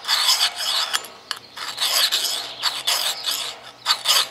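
A Lansky sharpener is pushed along the edge of an axe blade, making repeated close, gritty rasping strokes in an uneven rhythm with short gaps between them, and no one speaks.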